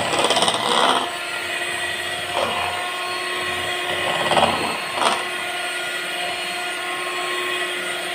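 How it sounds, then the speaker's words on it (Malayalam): An electric egg beater whirs continuously through cake batter made without oven, egg or maida, a steady high motor whine with a few louder surges as the beaters shift in the bowl, with no talking. "എഗ്ഗ് ബീറ്റർ വെച്ച് ബീറ്റ് ചെയ്യുന്നത്."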